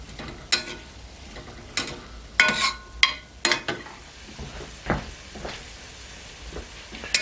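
Onion, green pepper and bacon sizzle in a pan while cooking down for Cajun barbecue pork roast, a low steady fry broken by sharp clicks and scrapes of stirring, close and fairly loud.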